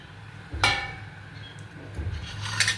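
A lid is set onto a pot of simmering chhana kofta curry, giving a sharp metallic clank up close, then a softer rattle and another bright clink about two seconds later, with no talking.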